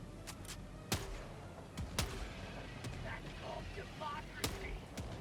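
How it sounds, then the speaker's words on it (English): Grenade launcher fire in Helldivers 2 during a solo bug fight: several sharp, booming thumps spaced a second or so apart, loud over a busy rumbling game backdrop. "sometimes it is fun just to let rip with a grenade launcher"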